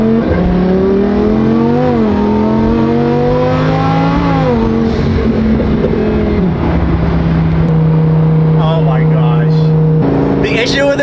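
A twin turbo Lamborghini revs hard and climbs through its gears, the engine pitch rising and dropping at each shift, loud and close throughout, with a voice briefly audible near the end.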